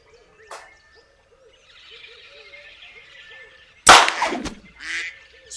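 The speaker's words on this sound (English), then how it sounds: "Oh, there's a bunch of ducks." Ducks in the AccuBow duck hunt video game call in a repeated series of quacks at moderate level, then a sudden loud burst of sound cuts in, followed by more honking calls.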